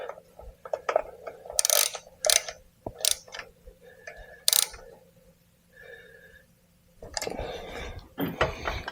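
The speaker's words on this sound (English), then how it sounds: "then I'll tighten this set screw here" Small set screw being tightened on a collar of a chain hoist garage door opener, giving a run of light close clicks, ticks and ratcheting taps with short pauses, then a louder rattling clatter near the end.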